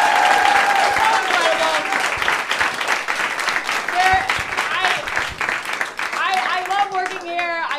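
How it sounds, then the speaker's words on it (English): An audience at a New York comedy club bursts into sustained loud applause and cheering, dense clapping with whoops and voices mixed in throughout. "can we give a round of applause for New York Comedy Club?"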